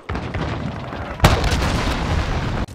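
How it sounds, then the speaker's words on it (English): A cruise missile strike in Call of Duty Modern Warfare sets off a loud, booming explosion with a sharp blast midway, followed by a sustained rumbling roar, heard alone without talk. "Allied cruise missile launched."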